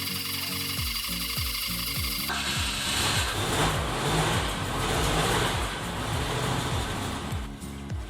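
A 1971 Citroën SM runs with a steady mid-pitched engine drone that swells as it revs a little, heard close and continuous throughout, with no talk.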